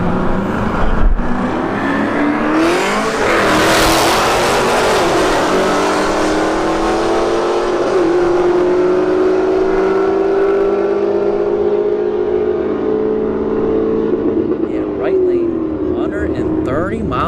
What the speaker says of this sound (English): Camaro SS right lane, 392 Scat, Charger in the left lane.